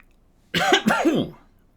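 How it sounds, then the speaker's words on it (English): A single close, rough cough in two quick bursts, loud and throaty, then quiet. "I got a cough going on"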